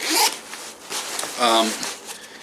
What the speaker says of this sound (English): there is zipper access on this side, and for another pouch